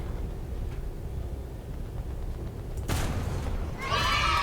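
A tank cannon fires in War Thunder with Italian armor: a sharp, loud broadband blast about three seconds in, then a second bright burst shortly after, both over a steady low engine rumble.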